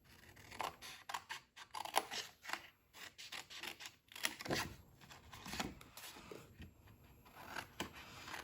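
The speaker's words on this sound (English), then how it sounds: "These paper snips are such sharp" Sharp paper snips cutting card while a mug gift box is made, giving a string of quick, close, crisp snips and rasping cuts at an uneven pace, fairly quiet with no talking.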